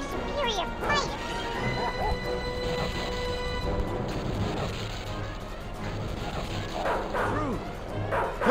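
Dogs bark and yip repeatedly in a Disney video game played on a PS5, with mid-distance barks mixed into game noise and character voices talking throughout.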